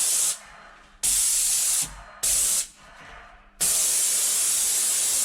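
A paint sprayer spraying skirting boards in bursts, four loud hissing sprays separated by short pauses, the last one held longer, close and with no talking.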